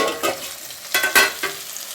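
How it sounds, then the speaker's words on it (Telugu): Okra pieces fry in hot oil in a pan, giving a steady soft sizzle broken by a few louder bursts of stirring and scraping, close and without talk. "బెండకాయ ముక్కలు ఫ్రై అయినాయా లేదా చూద్దాం"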